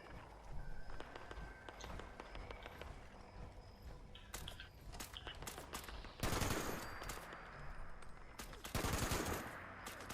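Video game gunfire in a multiplayer match, with steady shots crackling through the whole stretch and two louder, denser bursts near the end, heard without talk.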